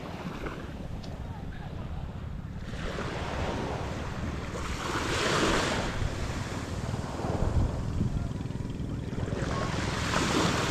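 Sea waves at the shore near a fishing spot, a steady wash of surf rising and falling with wind noise on the microphone, fairly close and continuous, with no speech.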